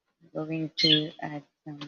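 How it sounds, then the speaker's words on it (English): Pet birds chirp indoors in quick high bursts, mostly masked under close, continuous talking. "Sorry about the noise, okay? I cannot stop my birds."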